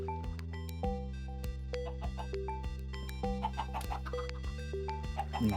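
Chickens clucking in a Minecraft Skyblock game, repeated short in-game clucks scattered over steady background music, fairly faint with no talk.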